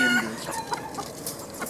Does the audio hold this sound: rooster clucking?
yes